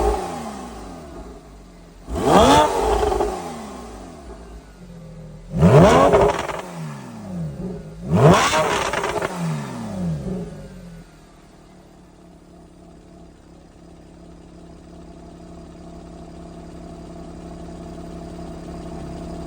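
Porsche 991.1S with an AWE switch path exhaust revs hard three times in quick succession, each loud rising blip falling away, then settles into a low, steady idle with no talking.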